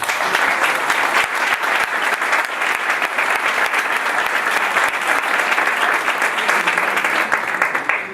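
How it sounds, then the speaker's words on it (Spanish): Audience applause at a round-table debate on a family support plan, dense and steady clapping from many hands filling the space for about eight seconds without letting up. "Y un aplauso a todos ellos."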